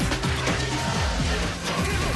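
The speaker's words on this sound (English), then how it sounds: "It replaces the theme song with a new upbeat soundtrack that sounds like this." Upbeat 1990s-style movie soundtrack music with a steady beat and bass line, dense and continuous at a strong level throughout, with no talking over it.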